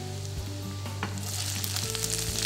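Calamari sizzles and fries in a pan with garlic and onion for a seafood risotto, with stirring scrapes breaking through a steady hiss; the frying gets louder and brighter partway through.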